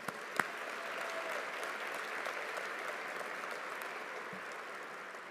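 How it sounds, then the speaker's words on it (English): Distant, even applause from an audience at an annual meeting and inauguration, a soft steady wash of clapping with a couple of sharper claps near the start. "Let's have a little round of applause for those folks."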